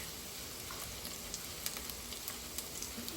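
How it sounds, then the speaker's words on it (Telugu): Soya chunks (meal maker) fry in a pan with a steady close sizzle and faint crackles, with no voices. "మీల్ మేకర్ కొంచెం బాగా ఫ్రై అవ్వాలి"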